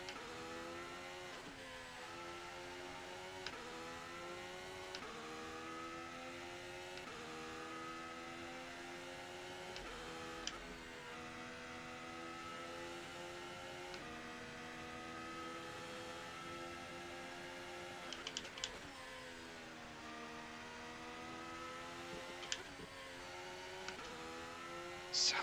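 The 2026 Haas VF-26 Formula 1 car in the Assetto Corsa racing game gives a continuous, fairly quiet engine whine that rises and falls in pitch through repeated shifts and lift-offs, with no speech.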